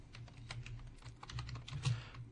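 Rapid typing on a computer keyboard, a quick run of soft key clicks at close range, fairly quiet and uneven in rhythm, ending with a slightly sharper keystroke.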